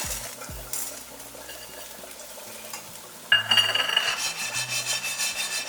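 Coarse rock salt dry-roasting in a pan for mango pickle: quiet rubbing at first, then from midway a louder, gritty continuous scraping and rattling as the crystals are stirred, close up.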